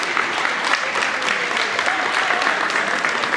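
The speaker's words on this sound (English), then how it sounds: "Give yourselves a round of applause." Audience applause for young athletes at an 11U ninja competition awards, a steady dense wash of clapping that stays loud throughout with no voices on top.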